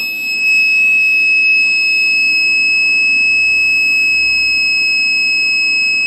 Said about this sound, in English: we've got an alarm and there is beeper